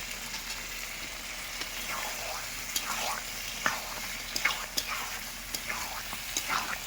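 Chili chicken thickened with cornflour slurry sizzles quietly in a pan, with scattered clinks and scraping stirs breaking through the soft frying hiss.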